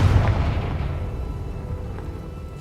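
Confringo blasting spell in Hogwarts Legacy going off as a deep, loud explosive boom with a rumbling tail that slowly fades, no talk over it.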